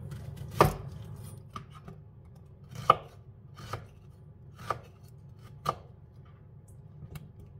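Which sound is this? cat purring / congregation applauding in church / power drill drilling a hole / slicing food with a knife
slicing food with a knife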